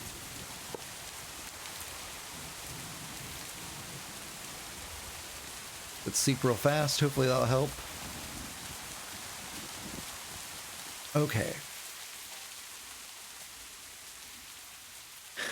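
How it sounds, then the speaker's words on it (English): Steady rain falls in a city-building video game, a continuous soft hiss across the whole stretch, while someone speaks briefly over it. "it rains so much in this game that I totally forgot about it"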